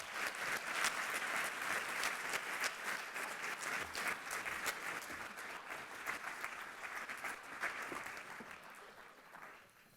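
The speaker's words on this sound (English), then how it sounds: "Ladies and gentlemen, a heartfelt round of applause," Sustained audience applause for a speaker at the Oxford Business Forum Africa: a dense wash of many hands clapping from a large crowd, fairly distant and soft, holding steady for about ten seconds before tapering at the end.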